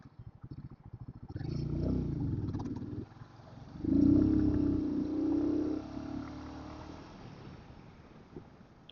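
A Royal Enfield Guerrilla 450 motorcycle being ridden during a front brake test, engine rumble rising and falling with a louder surge midway, then easing as the bike slows, mixed with wind buffeting on the microphone.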